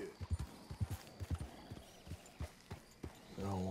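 Horses clip-clopping along in the Red Dead Redemption 2 game, with rhythmic close hoofbeats in a steady walking pattern and a brief tonal sound at the end.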